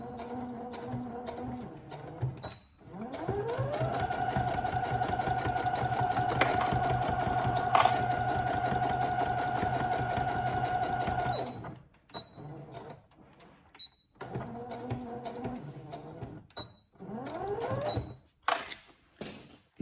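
A sewing machine stitches the inner lining seam of a shoulder bag in a long, steady, close-up whirring run, then stops and picks up again in shorter bursts with clicks and pauses.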